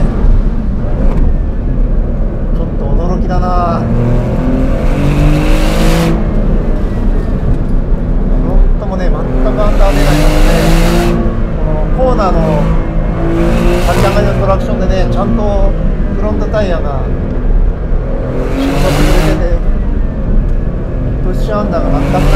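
A Maserati GranCabrio Trofeo engine revs hard and accelerates repeatedly on a winding road, pitch climbing with each gear, while someone talks over the loud, close engine noise.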